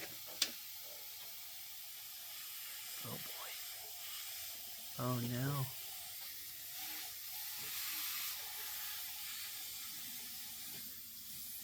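Air hissing from a loose fitting on a pickup truck being set up for sled pulling, a steady faint hiss running throughout, with brief exclamations from people nearby partway through.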